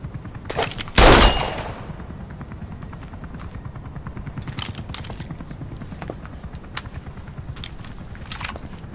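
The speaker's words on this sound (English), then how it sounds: "That's an automatic. Don't bother trying to dampen the recoil." Automatic gunfire in Metal Gear Solid V, opening with a loud sharp blast then scattered distant bursts and pops over a steady rumbling background, moderately loud, no voices.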